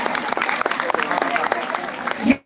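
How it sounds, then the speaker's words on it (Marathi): A crowd at a primary school annual gathering claps briefly, a dense patter of hand claps that stops abruptly, with a voice speaking over it. "जोडता टाळ्या वाजवायच्या"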